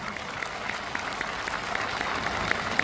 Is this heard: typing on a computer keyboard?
no